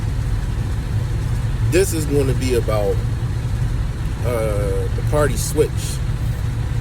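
A truck engine idles as a steady low rumble throughout, with someone speaking over it.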